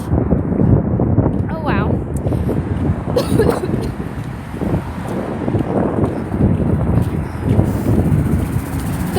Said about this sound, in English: The weather wouldn't be half as bad if the wind would stop